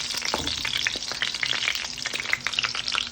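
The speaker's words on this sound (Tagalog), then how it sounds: "Fried eggplant. Ayan, nagbo-brown na siya." Eggplant slices fry in a pan, a steady, close crackling sizzle with small pops that continues without a break and stands alone without talk.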